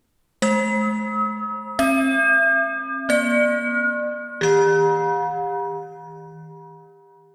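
A school bell rings out in four separate struck tones, each a clear ringing ding that lingers and fades, the last one lower and longest, with no talk.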